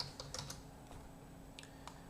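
Keystrokes on a computer keyboard while entering text into a web page, several quick taps in small bursts with pauses between them, soft and close against a low steady room hum.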